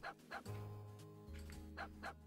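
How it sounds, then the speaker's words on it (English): A few short barks from a dog in the video game Omega Strike, coming in two quick pairs over a steady background music drone. "There's an adorable dog here."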